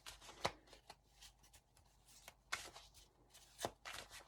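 Soft riffling and sliding of tarot cards being shuffled by hand, with a few sharper snaps, close and quiet.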